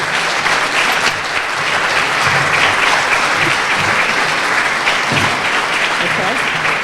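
Audience at a Newark History Society anniversary event welcoming speaker Tim Crist, sustained loud clapping from a full room, steady and even throughout.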